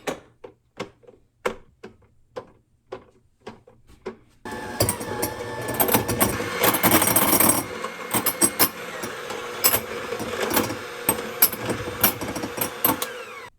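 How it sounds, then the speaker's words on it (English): Electric hand mixer grinding gluten-free bread into crumbs: a few sharp knocks and taps, then the motor starts and whirs loudly and steadily with rattling, clattering beaters against the bowl. "now we're gonna move on to the hand mixer."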